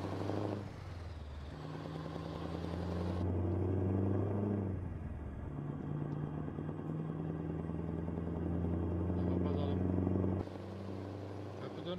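A Scania R560 truck engine in Euro Truck Simulator 2 hauling a long multi-trailer rig, a steady low diesel drone with shifting harmonic tones that swell and ease across the stretch, with no talk over it.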